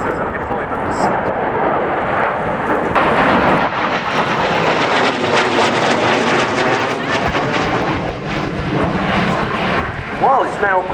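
A Polish Air Force MiG-29 jet performs at the Royal International Air Tattoo 2013 air show, its loud, continuous engine roar rumbling close and steady throughout.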